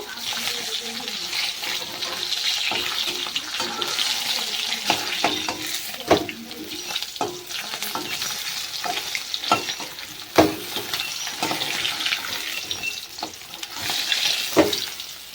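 Pieces of katla fish fry in hot oil in a kadai, a loud constant sizzle broken by repeated scraping and clacking strokes as they are stirred and turned, close at hand.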